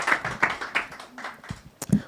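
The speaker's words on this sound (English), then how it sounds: "A round of applause." Scattered clapping from a small audience at an East Africa peace initiative gathering, a handful of distinct, uneven hand claps rather than a full ovation, with a brief voice near the end.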